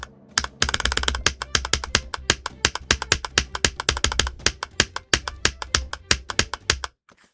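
Keys clack rapidly on a Huntsman V2 keyboard, a close, crisp run of evenly spaced keystrokes that stops near the end.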